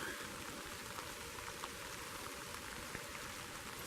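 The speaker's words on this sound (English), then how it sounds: "the rain has picked up, so I'm going to cut the video on this a little short today" Rain falls on a forest trail in Monte Sano State Park, Alabama, a faint, even hiss of drops spread across the whole stretch with only small ticks standing out, and no voices.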